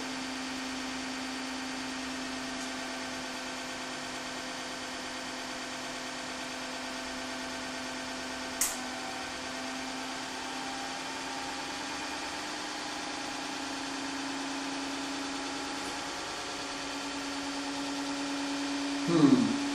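An EV motor spins a gearbox adapter whose taper lock is still loose, giving a steady, even mechanical hum with a constant tone throughout, one brief click midway and a small rattle near the end.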